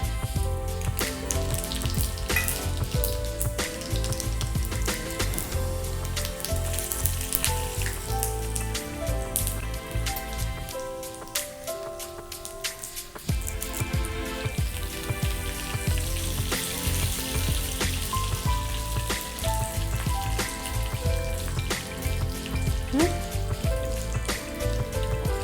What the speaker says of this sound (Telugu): సో ఇప్పుడు ఏం చేద్దామంటే మనం పోపు వేసేసుకుందాం.